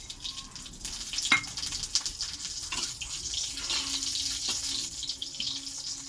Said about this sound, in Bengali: সঙ্গে উচ্ছেটাকে আমি লাল লাল করে ভাজবো।